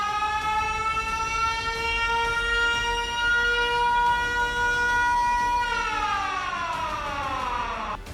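A civil defense siren sounds during a mock drill, a loud, steady wail that holds one pitch for several seconds and then glides downward as it winds down, with no voices.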